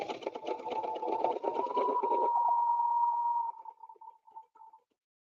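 Sewing machine double stitching on fabric, a close, steady buzzing run of a couple of seconds that slows into a sustained hum, then a few short stuttering bursts before it stops, with no voices.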